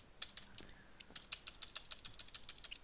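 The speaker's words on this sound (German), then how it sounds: "Na, tippt da wieder einer?" Rapid, quiet clicking of keys on a computer keyboard during a Minecraft Tekkit Lite gaming session, an irregular patter of close, light taps with no talk.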